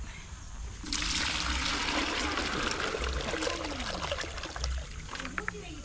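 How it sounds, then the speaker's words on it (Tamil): Water poured into a bucket from a strong, steady stream, rushing and splashing continuously at close range while a voice talks underneath. "சேத்துக்குள்ள தண்ணி கொண்டு வரணும், பக்கெட்டில் ஊற்றிடுறான்"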